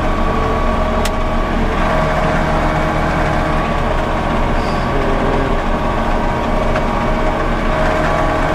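A steady, rumbling John Deere tractor engine idles continuously at close range, a low mechanical drone with no talk over it.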